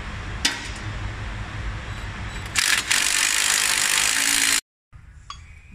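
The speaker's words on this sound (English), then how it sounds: "So I'm just using a cordless impact." A cordless impact wrench drives 3/4 inch bolts during a reverser install on a Lexion combine, with a brief click, then a loud hammering burst of about two seconds that cuts off abruptly, followed by quiet handling.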